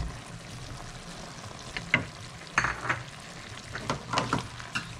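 Pork igado frying in a pan is stirred, giving a steady soft sizzle beneath a few louder scraping, clattering stirs of a utensil against the pan, close and without talk.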